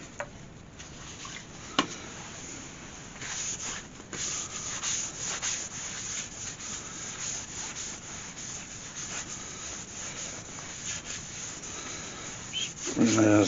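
A steady rubbing hiss continues as sand sealer is worked onto a spinning sycamore bowl on a wood lathe, with a few sharp taps and a louder scrape right at the end.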